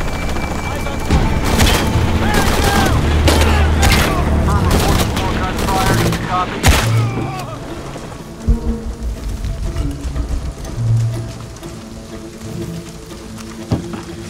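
Bursts of rapid gunfire and booming shots in the video game Shadow of the Tomb Raider fill the first seven seconds, then scattered single thuds follow over a low ambient rumble.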